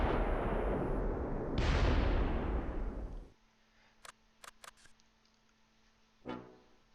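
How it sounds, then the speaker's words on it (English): Grenade explosions and gunfire in the video game Close Combat III: a long, loud blast rumbles and decays over a few seconds, followed by several short sharp gunshots and one more burst near the end. "Throw some grenades"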